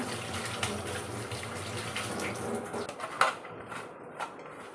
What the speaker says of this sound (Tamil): இப்போ நாம் கீரையை வந்து கழுவி எடுத்துக்கலாங்க